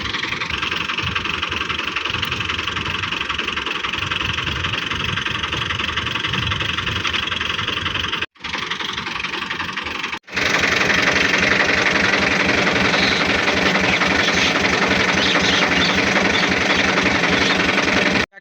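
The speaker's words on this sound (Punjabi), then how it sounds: "ਤੇ ਹੁਣ ਜਿਹੜਾ ਜੇ ਤੈਬ ਹੋਰੀ ਟਰੈਕਟਰ ਲੈ ਕੇ ਆ ਗਏ ਜੇ" A tractor engine runs steadily in a field while pulling a load of cut fodder. The low, throbbing diesel rumble cuts out briefly twice, then returns louder and rougher, continuous and close.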